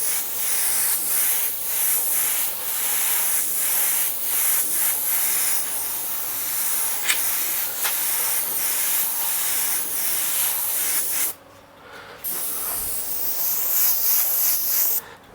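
An airbrush hisses steadily as paint goes on in light coats for an Ayrton Senna artwork, a close continuous spray broken by short pauses and one brief stop before resuming.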